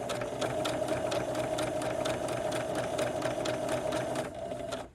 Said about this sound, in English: let's turn it halfway to make a medium width zigzag